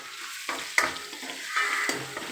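Vegetables for fried rice sauté in a hot pan, a steady sizzle broken by several sharp stirring scrapes and clatters of the spatula, close and fairly quiet with no talking.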